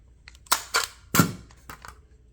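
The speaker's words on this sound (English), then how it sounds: "Mag drops right out." An AR-15 rifle from Diamondback Firearms having its magazine dropped out, heard as a handful of sharp mechanical clacks and clicks, close and fairly loud, spaced unevenly over about two seconds.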